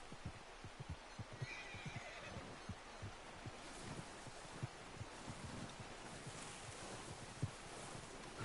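A horse in the video game Red Dead Redemption whinnies briefly amid soft clip-clop hoofbeats and rustling, the neigh fairly quiet and set against steady game ambience.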